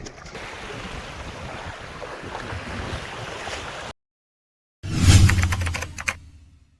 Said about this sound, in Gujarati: આજે પવન ફૂલ છે પવન નીકળ્યો આજે